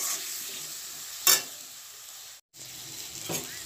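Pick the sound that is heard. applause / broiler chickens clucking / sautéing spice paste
sautéing spice paste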